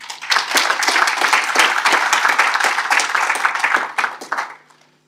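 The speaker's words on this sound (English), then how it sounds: "Can you give all the speakers a round of applause" A crowd at the opening of an Eastern and Southern Africa commission meeting applauds the speakers, dense steady clapping for about four seconds before it tapers off and stops.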